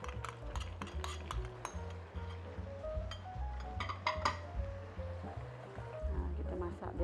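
Chili powder and spices being stirred and fried in a pan for a fish curry, with a steady sizzle and repeated scraping and clinking of a utensil against the pan throughout, close and continuous, while a low background hum runs underneath.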